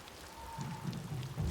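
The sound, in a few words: rain in video game Ghost of Yōtei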